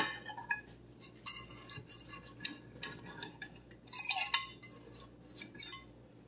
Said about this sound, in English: you can just take a knife and cut right through